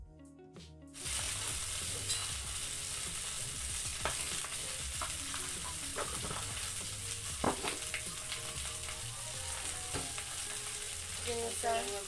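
Kuryat sautéing in a hot pan in an Ilocano kitchen gives a loud, continuous sizzle and frying hiss with occasional stirring scrapes, starting abruptly after a brief quiet moment.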